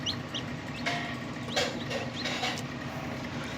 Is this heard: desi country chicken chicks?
yes